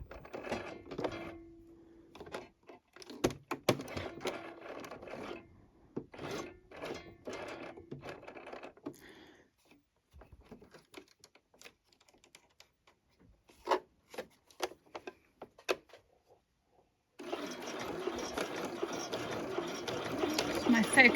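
A sewing machine fitted with an invisible hem foot stitches in short, stop-start runs with pauses, then ends in one steady, continuous run; a person talks at times.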